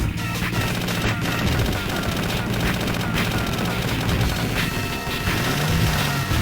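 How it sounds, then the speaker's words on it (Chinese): Incendiary bombs burst in the arcade game Cadillacs and Dinosaurs, a dense, continuous run of loud explosions and rapid gunfire with game music underneath and a commentator talking over it. "这大燃烧弹"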